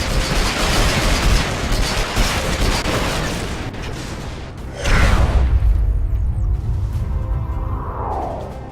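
Air-to-ground rockets fire from a Reaver gunship in the video game PlanetSide 2, a loud dense barrage of blasts and rushing noise followed by a heavy boom and a fading whoosh, with no talking.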